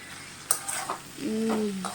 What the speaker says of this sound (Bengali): ডাটা আলু সব দিয়ে ভালো করে মিশিয়ে নিতে হবে একটু ভাজা হয়ে গেলে